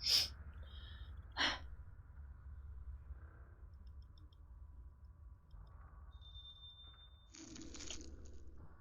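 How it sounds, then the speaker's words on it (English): A person in manual breathing mode during a Fatal Frame: Mask of the Lunar Eclipse speedrun gasps sharply for air twice, near and loud, early in the clip. Soft in-game ambience with faint ticks and a hiss burst follows. "you're probably gonna hear me gasping for air like that a lot."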